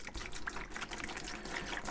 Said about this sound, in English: pour my half gallon of water in,